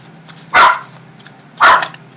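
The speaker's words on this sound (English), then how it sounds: "With the puppies barking like that after speaking about this" Puppies give two sharp, separate barks about a second apart, close and clear over quiet background.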